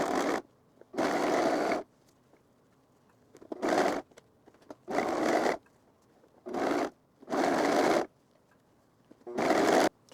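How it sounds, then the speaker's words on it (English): A sewing machine stitches jogger sweatpants turned inside out, running in six short, loud bursts of steady whirring separated by brief pauses, with no talking. "notice that we're sewing on the inside of the garment"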